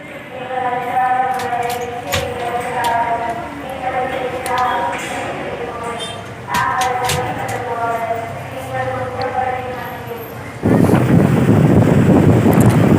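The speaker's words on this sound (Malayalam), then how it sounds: "ഒരു രൗദ്രഭാവത്തോടു കൂടിയാണ് തിരമാലകൾ ആഞ്ഞടിച്ചുകൊണ്ടിരിക്കുന്നത്" Rough sea waves crash onto Velankanni beach at night, a low wind-blown roar beneath someone talking, then surging into a loud, broad wash of surf on its own at the end.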